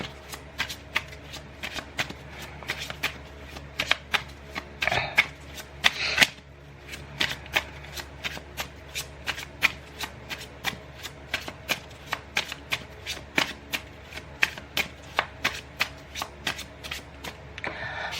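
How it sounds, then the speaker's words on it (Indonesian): A deck of tarot cards is shuffled by hand for about eighteen seconds, a steady run of crisp, close riffling and slapping bursts, with no talking. "Baiklah, aku shuffle kartunya ya."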